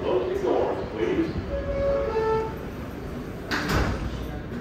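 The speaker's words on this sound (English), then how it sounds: "Stand clear of the closing doors, please." A New York subway R188 7 train car at 46th Street with a short electronic chime, then a sliding door thumps shut amid the steady rumble of the train.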